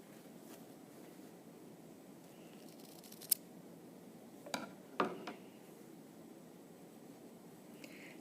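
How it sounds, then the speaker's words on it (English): Scissors snip off extra fabric at a stitched corner of a neck cooler, a few quiet, brief cuts spaced apart over a soft background hiss. "I'm also going to take this extra fabric off on this corner without cutting through this line of stitching."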